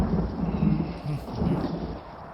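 Thunder and heavy rain in a Kannada romantic action film dubbed into Hindi, a low continuous rumble with dense rainfall swelling and easing across the short stretch, steady and fairly loud with no talk over it.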